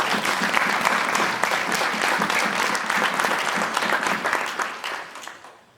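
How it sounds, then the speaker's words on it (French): Audience applause during a commemoration speech marking five years of imprisonment, a dense, loud burst of many clapping hands that holds steady before tapering off near the end. "Je pense qu'elle mérite aussi vos applaudissements."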